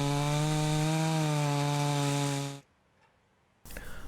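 A chainsaw cuts through a red maple log of roughly 25 to 28 inches, its engine droning steady and loud for about two and a half seconds, then cutting off into near silence before a brief burst of noise returns.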